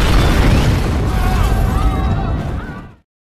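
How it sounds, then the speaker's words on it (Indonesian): A bomb goes off in the film Don 2, a loud heavy boom with a rumbling roar that holds for about three seconds and then cuts off abruptly. "Setelah bom itu meledak"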